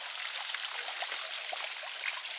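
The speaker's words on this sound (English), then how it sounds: "here's a little tiny waterfall here" Small roadside waterfall near a highway by Lake Superior, a steady close rush of splashing water that fills the scene without a break.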